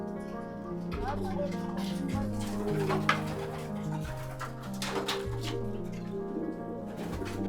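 Imported racing pigeons in a loft coo with repeated low throaty pulses, layered with nearby bird calls and a dog barking, while someone talks over them.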